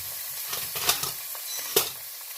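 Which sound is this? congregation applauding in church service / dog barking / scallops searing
scallops searing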